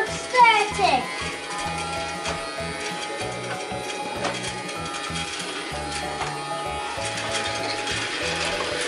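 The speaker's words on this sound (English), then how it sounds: "it has some really cool, realistic vacuum cleaner noises" A Casdon toy Dyson Ball vacuum cleaner gives off rhythmic clicking, whirring mechanical noise in repeating bursts, with someone speaking over it near the start.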